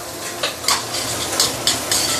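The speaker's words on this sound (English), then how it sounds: "heat to slowly saute the chili to really bring out the nice fragrance" Chili sautéing in a pan over medium heat, a steady soft sizzle with several sharp scraping stirs of a utensil against the pan, close and without talk.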